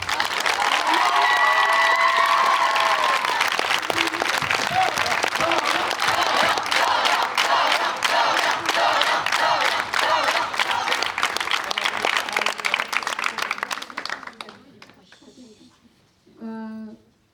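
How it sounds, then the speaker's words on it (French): Loud, dense audience applause with some cheering after a final-year students' theatre performance, sustained for about fourteen seconds before fading out, followed by a brief voice. "On peut l'applaudir,"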